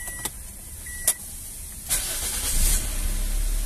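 A Toyota Altis fitted with an LPG kit starts on petrol and switches over to gas: a few clicks and a brief whine, then a sharp start and a steady idle that builds, recorded close.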